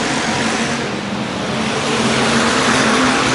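Race cars running side by side through turns three and four of an oval track at a Flatlander Special qualifying night, a steady loud engine roar that swells slightly toward the end, with no talk.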